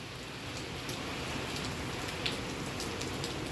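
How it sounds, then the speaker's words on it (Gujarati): Heavy monsoon rain pours steadily on a village during the Shravan month in Chhara, Gujarat, a dense, even hiss of drops drumming on surfaces with no talk. "આજે શ્રાવણ મહિનાનો બીજો દિવસમાં ભારે વરસાદ જોરદાર."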